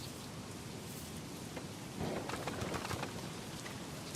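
Soft steady rain ambience with pattering drops in the medieval city-building video game Manor Lords, a quiet even wash with birds cooing faintly in the background.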